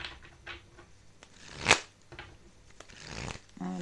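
A deck of tarot cards is cut and shuffled at close range, giving a few soft riffles and taps with one sharp burst in the middle. No one speaks.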